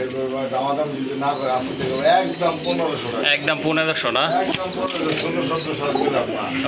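Pigeons coo in a market stall while men haggle loudly over price nearby; the birds' low rolling calls sit under the bargaining voices.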